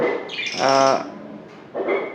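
Small finches, yellow and green, chirp close by in short, bright bursts, with a brief pause between calls, and no voices.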